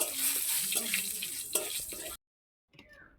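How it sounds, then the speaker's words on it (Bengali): Panch phoron spices with dried chili and bay leaves crackle in hot oil, a bright sizzling hiss with a few stirring knocks that cuts off abruptly to silence before a brief faint return. "এবার এই পাঁচফোড়নটাকে একটু ভালো করে ভেজে নেব"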